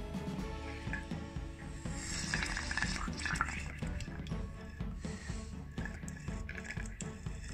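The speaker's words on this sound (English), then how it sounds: "Just going to take a straw and bubble some carbon dioxide into this." Continuous bubbling and gurgling as air is blown through a straw into water, close up, with irregular splashy pops throughout at a quiet level.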